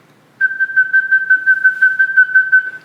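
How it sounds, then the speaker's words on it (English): Steady whistling demonstrating flute vibrato, a single sustained pitch pulsed in rapid even sixteenth-note beats that starts abruptly and runs alone for over two seconds. "think of whistling 16th notes."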